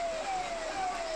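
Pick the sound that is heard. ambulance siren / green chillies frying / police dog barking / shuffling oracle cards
ambulance siren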